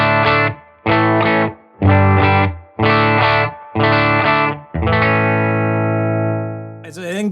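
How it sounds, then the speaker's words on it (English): A McGinney Skylark electric guitar through a Silktone amp plays five short, chopped, distorted chords in a steady rhythm, then one long sustained chord, loud and close with a brief squeal at the end. "Silktone amp sounds like this."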